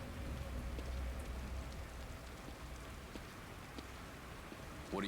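Steady rain falls and patters on surfaces in the video game The Evil Within, a soft, even hiss throughout, with a short sharp sound near the end.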